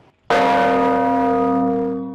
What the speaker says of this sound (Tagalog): Makikita natin dito the biggest bell in Southeast Asia